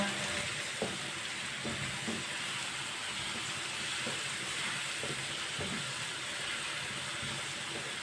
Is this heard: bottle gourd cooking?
yes